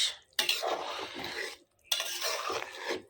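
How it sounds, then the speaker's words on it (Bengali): A lid clatters twice onto a cooking pot of chicken with coriander leaves, two close metallic knocks over a soft sizzle. "এখন আগে ঢাকনা দিয়ে ঢেকে নিই"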